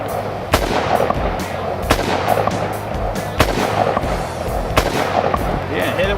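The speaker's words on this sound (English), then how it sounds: "So you're gonna shoot our sculpture." Gunshots aimed at a polished metal deer head sculpture, several sharp loud reports at irregular intervals over an outdoor background with faint activity between shots.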